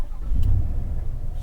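A 2022 Chevrolet Silverado High Country pickup turning over and catching, a short steady low engine rumble close by with a brief crank burst near the start.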